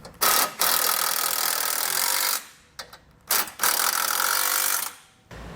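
Ratchet wrench snugging down bolts with a 13 on a Blue Ox base plate kit during installation on a 2022 Ford Escape, heard as close, loud bursts of rapid clicking separated by short pauses.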